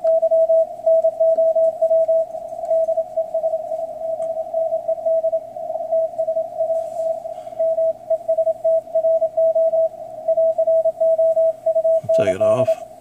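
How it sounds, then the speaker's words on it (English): A weak Morse CW signal on an Icom IC-7300 radio speaker sounds as a steady, pure keyed tone beeping in irregular dots and dashes over faint hiss, ending with a brief warbling chirp. "IC7300 tuned into a CW signal that's about S2, fairly weak"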